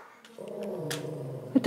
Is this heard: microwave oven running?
no